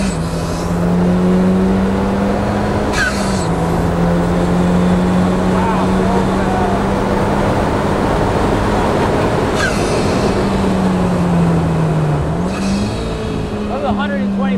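An Ariel Atom 4 turbocharged street-legal track car driven hard on a circuit, its engine droning loud and close with steady pitch, brief dips and rises as it shifts or lifts, wind roar throughout.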